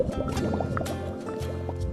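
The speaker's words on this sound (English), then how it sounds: "Others are submerged in water to detect invisible leaks." Rubber gloves submerged in water for leak testing in a glove factory, giving steady liquid sloshing, filling and dripping sounds with small gurgles, continuous and close throughout.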